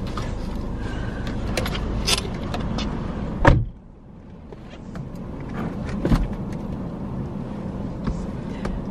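A car driving along with a steady interior rumble, a sharp clunk partway through followed by a brief quieter stretch, then the road noise returns.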